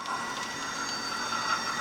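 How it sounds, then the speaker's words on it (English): A model train rolls slowly into Everett's Bayside Yard on a model railroad layout, giving a steady, fairly quiet rolling hum with light metallic wheel squeal throughout. "Our train has now come all the way around from Seattle to Everett and is slowly pulling into Everett's Bayside Yard"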